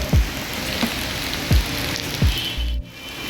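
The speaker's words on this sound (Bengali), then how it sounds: "আর বৃষ্টি নেমে গেছে" Heavy rain pours onto a street in a steady, loud hiss, broken by a few dull thumps and knocks nearby.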